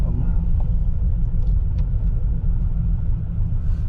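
A 1941 Cadillac Series Sixty engine runs steadily and loud up close from inside the car, a continuous low rumble pulling away after the clutch is let out, with no talk.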